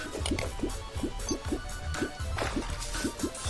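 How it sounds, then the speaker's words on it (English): Water flowing in the Terraria video game, heard as a rapid series of bubbly, dripping plops about every quarter second over a constant wet rushing bed. "Water coming down from here?"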